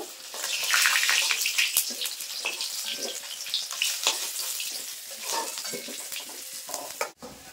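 Fish fries in hot oil with a loud, dense, crackling sizzle that holds steady throughout, ending with a brief clunk.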